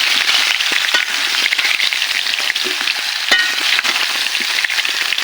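Cut, slightly ripe mango pieces sizzle steadily in hot oil for a pickle while being stirred, a loud continuous frying hiss with soft scraping and clinks from the stirring throughout.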